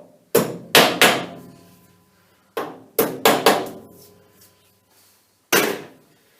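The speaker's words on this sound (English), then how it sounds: "we have two dowels still there, so we'll just give them a bit of a tap down" Dowels are tapped down on a centre lathe during maintenance: seven sharp, close hammer strikes, with a pair, a single, a quick triple and a last lone hit, each ringing briefly with no talk.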